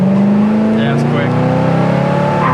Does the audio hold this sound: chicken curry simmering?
no